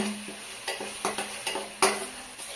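Onion and ginger-garlic paste frying in a pan for doi katla, a steady sizzle broken by a series of rhythmic scraping stirs, close and without talk.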